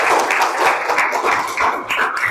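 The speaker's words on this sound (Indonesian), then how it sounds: "Beri tepuk tangan untuk kelompok" Students in a classroom clap for a group that just finished presenting, a short burst of close, moderately loud hand claps.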